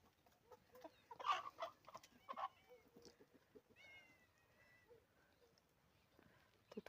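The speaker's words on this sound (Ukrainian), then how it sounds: "Подивіться, приходить сюди наші курочки." Chickens cluck in short bursts near the start, with a few higher calls and chirps later, all fairly faint outdoors with no talking.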